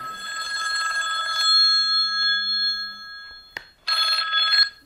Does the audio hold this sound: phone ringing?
yes